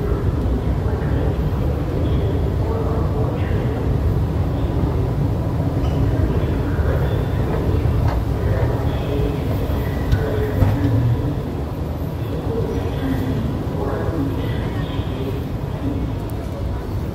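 A Singapore MRT train rumbles steadily toward Changi Airport, with rattling wheel noise and a dense low roar, while people talk intermittently over it.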